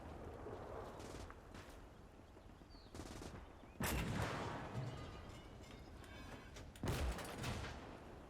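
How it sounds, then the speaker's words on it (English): A flak gun fires in the Gates of Hell battle game, with sharp, heavy blasts booming at irregular intervals over a rumbling backdrop of combat noise. "Some devastating hits from this flak here."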